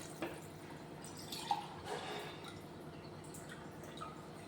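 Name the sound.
water being poured into a pot of rice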